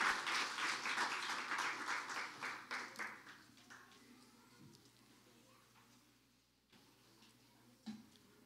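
Applause from a church congregation that starts fairly full and gradually thins, fading to scattered claps and quiet.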